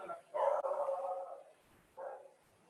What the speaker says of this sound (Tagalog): Sorry sa aso namin, ayaw niya.